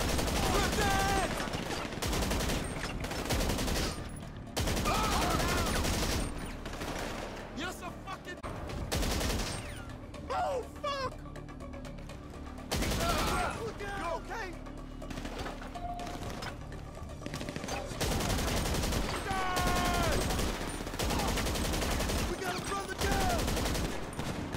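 Sustained automatic gunfire rattles through a video game shootout in loud, dense bursts with short pauses, while players talk over the shooting.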